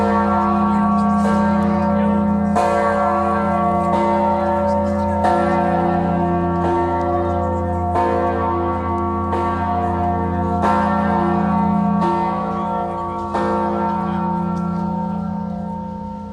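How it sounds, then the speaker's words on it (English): Clock chime bells ring out one after another, each strike bringing a rich cluster of tones: a low hum, prime, octave, fifth and minor third. The strikes come every few seconds and their sustained tones overlap, alone and without talk. "Each bell gives not 1, but 5 tones when struck."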